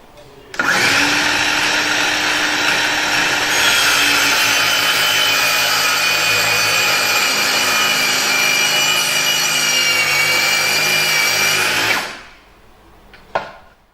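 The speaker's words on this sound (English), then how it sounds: "we're going to push the saw into the material, thus retracting the blade, retracting the guard, allowing the blade to cut into the material." A power saw cuts into wood material, a loud, steady whining buzz that holds for about eleven seconds, then winds down, followed by a brief clatter.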